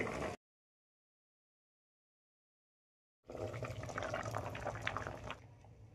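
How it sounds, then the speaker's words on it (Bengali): A medium-sized potato boils in water in a covered pot, a brief burst of sound followed by silence and then a steady bubbling and rumbling from the pot. "আলুটা আমি এর মধ্যে সিদ্ধ দিয়ে দেবো"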